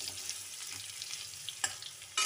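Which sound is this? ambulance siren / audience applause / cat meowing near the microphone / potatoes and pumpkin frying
potatoes and pumpkin frying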